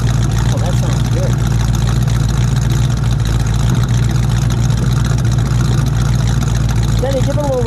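An orange 1978 Ford Mustang King Cobra with a 302 V8 idles close by with a steady, loud, throbbing rumble that holds even throughout.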